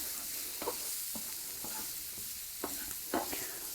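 Onions frying in a pan for a farfalle with tuna, mushrooms and cream, stirred in a few separate scrapes over a steady soft sizzle, close by with no talking.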